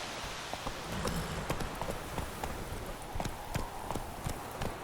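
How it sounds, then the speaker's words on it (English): In The Witcher 3: Wild Hunt, a horse's hooves clip-clop at a steady walking rhythm, close and crisp over a soft ambient bed of game sound. "Whoa there, Roach."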